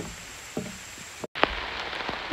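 Rain falls steadily on a swamp sanctuary trail, a dense hiss of drops with a few sharper close patters and a brief cut to silence partway through.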